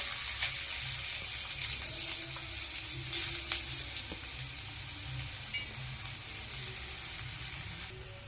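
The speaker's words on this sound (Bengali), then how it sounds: "কড়াতে তেল দিয়ে দিয়েছি সাদা তেল পেঁয়াজ কুচিগুলো দিয়ে দেবো" Chopped onions dropped into hot white oil in a wok crackle with a steady, close frying sizzle that fades slightly over time, with faint stirring clinks and no voices.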